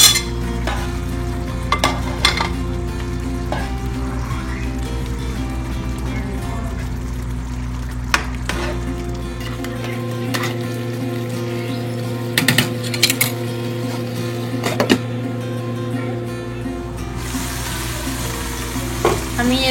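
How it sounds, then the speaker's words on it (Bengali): Shrimp go into a bubbling pan of malai curry and are stirred, a continuous close simmering hiss and sizzle with scattered scraping spoon clicks and a low steady hum throughout. "আমি চিংড়িগুলো দিয়ে দিচ্ছি।"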